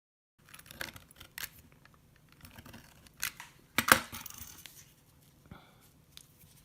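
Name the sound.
cutting wallet leather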